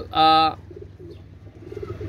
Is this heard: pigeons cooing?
yes